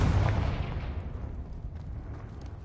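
Confringo fire spell bursting in Hogwarts Legacy: one heavy, booming explosion at the start that rolls into a long, fading rumble and then sinks into quiet background.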